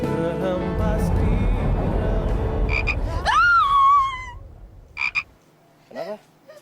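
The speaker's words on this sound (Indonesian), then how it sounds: "Ada kodok." A frog croaks close by, a loud drawn-out call followed by a few shorter, quieter croaks after a noisy opening stretch.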